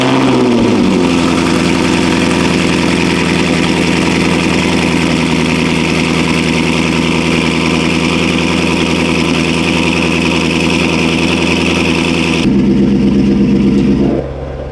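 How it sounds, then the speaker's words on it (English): Twin-turbo S650 Mustang with a Corsa Xtreme exhaust fires up cold, settling into a loud, steady high idle before a sharp rev and drop near the end. "The following morning after installing the Corsa exhaust, I wanted to see everything in the light, plus give you guys an authentic cold start"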